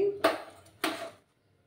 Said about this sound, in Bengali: একটা প্যান আমি বসিয়ে দিলাম।